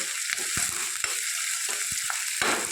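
Curry leaves tossed into a frying vegetable curry and stirred, a constant hiss of sizzling with soft scraping and tapping strokes throughout.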